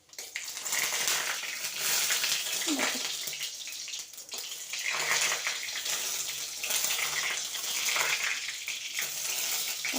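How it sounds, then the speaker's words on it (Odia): Hot oil spitting and crackling in a pan as whole dried chillies, curry leaves and spices fry, set off by leftover water on the pan; a steady, dense sizzle running throughout, near and fairly loud. "ପାଣି ରହିଯାଇଥିଲା ଖଡ଼ିକାରେ ଟିକେ, ସେଥିପାଇଁ ଚଟଚଟ ହେଉଛି।"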